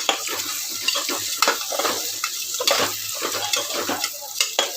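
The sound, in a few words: stirring moong and masoor dal mixture in a pan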